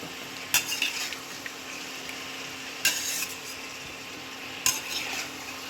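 A spoon stirs mutton qorma masala with Kashmiri red chili and oil in a pan. Quiet frying sizzle runs throughout, broken by three sharp utensil scrapes or knocks against the pan.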